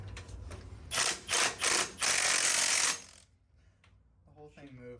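A ratchet tightens bolts on a Sears GT18 transaxle in a few loud rapid bursts of clicking, then a longer run, followed by faint clinks and a voice speaking.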